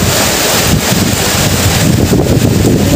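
Strong wind sweeps through steadily during a sudden rainstorm in a rural Davao setting, a loud, continuous broadband roar that holds constant throughout with no speech over it.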